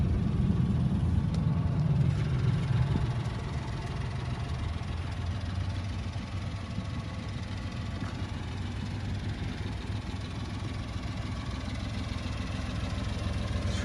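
A 1994 Honda Acty SDX 4WD mini truck with its 660 cc three-cylinder engine idling nearby, a steady low rumble that holds even and unbroken with no talk.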